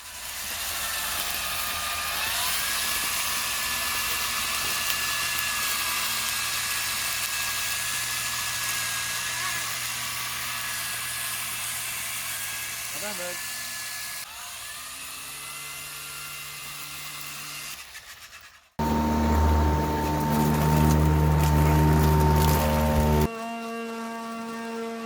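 A string trimmer whines steadily at high speed while blowing leaves, its pitch dipping and shifting as it works, then surging louder for a few seconds near the end.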